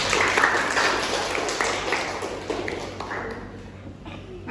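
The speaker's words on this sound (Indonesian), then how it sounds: "tepuk tangan untuk Kania" A classroom of pupils claps for a classmate during an Islamic history lesson, a dense, steady patter of small hands that carries on loudly for several seconds, with some voices mixed in.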